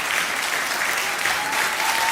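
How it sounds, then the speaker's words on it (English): Audience applause during a standing ovation at a Shia gathering, sustained dense clapping from a large crowd, steady and loud throughout without pause. "Another standing ovation."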